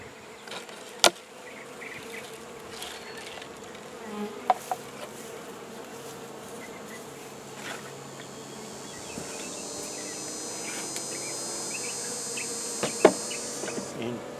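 Bees buzz in a beehive, a steady insect drone, close and fairly faint, with a few sharp clicks and knocks over it.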